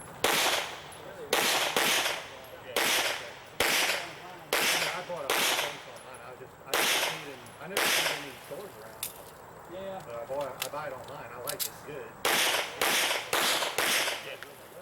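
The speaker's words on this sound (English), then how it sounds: "Here's a left-handed shooter running the stage." Pistol shots from a left-handed IDPA shooter running a stage crack out in quick pairs and short strings, loud and sharp, with brief pauses between groups and a few spaced shots later.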